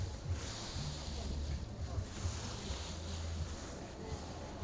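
Strong wind roars steadily across a microphone at an outdoor market, a dense, even rumble with no clear speech over it.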